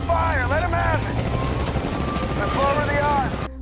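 Rapid gunfire from Luftwaffe fighter planes attacking an American bomber, dense crackling bursts over a heavy engine drone, with whining, sweeping tones of aircraft passing close and loud.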